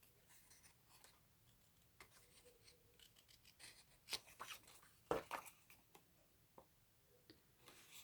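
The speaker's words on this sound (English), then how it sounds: "Now I want to cut around this leaf." Scissors snipping around a paper leaf shape during craft prep work, quiet close-up cuts and rustles scattered irregularly, a few sharper snips standing out midway.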